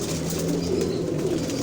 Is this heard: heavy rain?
no